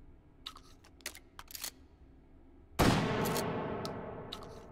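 A shotgun fires in the VR game Hot Dogs, Horseshoes & Hand Grenades, one loud near blast with a long decaying tail, after a few light mechanical clicks of handling the weapon.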